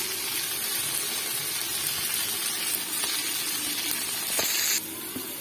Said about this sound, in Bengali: এখানে কড়াইতে জল গরম বসিয়েছিলাম, জলটা ফুটে উঠেছে।